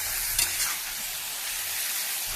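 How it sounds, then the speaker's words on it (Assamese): Meat and onion frying in a hot wok while being stirred, a close, steady sizzle with a few scraping stir strokes near the start. "পিঁয়াজখিনি দি মাংসখিনি দি এনেকৈ ধুনীয়াকৈ দুবাৰমান মই লৰাই দিছোঁ মাংসখিনি সিজিবৰ কাৰণে"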